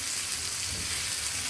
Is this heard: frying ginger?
yes